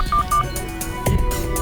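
Telephone keypad tones dialing a number, several short evenly spaced beeps, close and clear against a quiet room.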